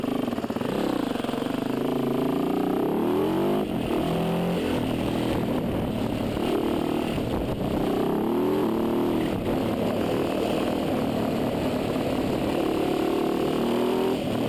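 A 450 rally motorcycle engine runs steadily while being ridden, a continuous close drone with shifting revs throughout and no break.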